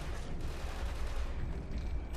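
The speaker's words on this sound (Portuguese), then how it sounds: "Tô tomando tiro." Rapid gunfire from the Killzone 2 demo, a dense continuous barrage of shots and blasts filling the short stretch at steady loudness, with no talk over it.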